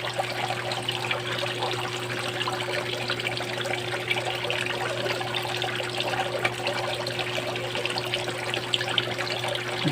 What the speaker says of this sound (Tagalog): Gusto nila yung kumakatak na tubig.